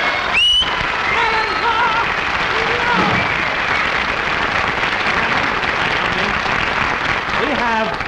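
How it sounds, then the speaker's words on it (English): An audience applauds the orchestra conductor Alan Roth on a 1949 television variety show, with sustained, loud, even clapping throughout and brief whistles and cheers rising over the crowd. "Let's give him a big hand"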